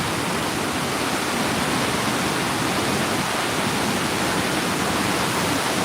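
Rushing river water near the deep waterfall pools at Hilo, Hawaii, a loud, steady, broadband roar of churning flow that continues without a break and has no voices over it.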